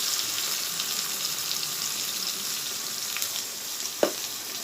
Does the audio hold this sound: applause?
no